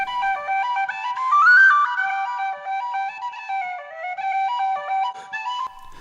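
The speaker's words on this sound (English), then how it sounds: "played on a tin whistle" A tin whistle plays the reel Buckley's Fancy, quick ornamented notes tumbling along in a bright melodic line, solo and clear, recorded on a phone.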